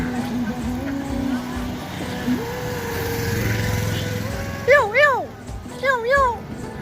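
A tractor engine drones steadily on a hilly uphill road in Nepal, heard from nearby, with a few rising and falling tonal wails toward the end and a voice speaking.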